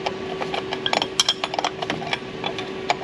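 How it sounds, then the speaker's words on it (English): Metallic clinks and light wrench taps as a fitting jam nut is tightened onto the pump of a CAT 3126 diesel engine, a series of close, small irregular ticks over a steady hum. "then I'll tighten it down to the pump using the jam nut right here."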